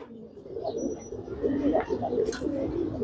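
Male champion racing pigeons in a loft, a 41-kilo class tournament bird from Narayanganj, with soft low cooing murmurs repeating steadily at close range amid faint background chirps.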